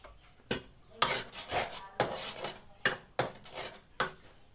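Spaghetti noodles being mixed into leftover sauce in a pan give a series of sharp utensil clanks and scrapes against the metal, roughly one every half second to second, close and fairly loud.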